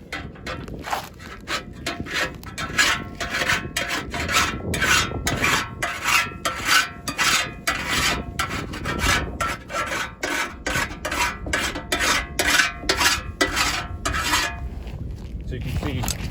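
Hand file rasping across the steel of a Ford 429 stock oil pan in quick, regular back-and-forth strokes, close and fairly loud, with brief pauses near the end.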